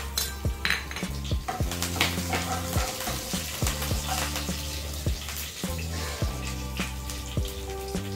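Curry leaves crackle in hot oil with mustard seeds, urad dal and chana dal tempering for masala poha, a steady sizzle broken by repeated loud metallic clanks of a spoon against the pan.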